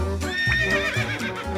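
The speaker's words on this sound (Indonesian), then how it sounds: "Ini kuda." A horse whinnies loudly in a single shrill, wavering neigh, heard close by and alone.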